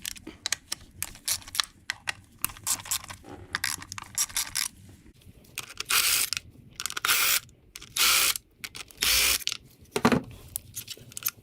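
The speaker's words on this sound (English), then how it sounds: "for the bolts, I will have to use a socket" Socket ratchet loosening ignition coil fixation bolts on a Ford Fusion / Mondeo engine, with bursts of rapid clicking pawl rattles separated by pauses, loud and close, plus a few metallic clinks.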